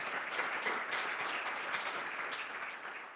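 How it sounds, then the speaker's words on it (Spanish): A conference audience at a recycling industry presentation applauds, a dense, steady wash of many hands clapping that holds for a few seconds and dips slightly at the end. "le quiero pedir un tremendo aplauso"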